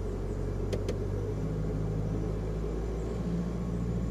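A car engine hums steadily while the car reverses up a hill with light throttle, a low, even rumble close by, with two quick faint clicks early on and no voices.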